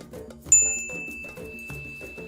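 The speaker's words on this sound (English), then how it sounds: "And for spirit, I offer the bell." A ritual bell is struck once as an offering, a clear bright ding that rings out and slowly decays over a soft musical background.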